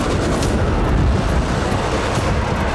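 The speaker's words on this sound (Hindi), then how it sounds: "यहां एक गैस स्टोरेज बेस को निशाना बनाया गया, जिसके बाद ज्वालामुखी जैसा विस्फोट हुआ।" A huge, continuous roar from a struck gas storage base in Kazan fills the air, a dense, steady rumbling blast at full loudness with no pauses.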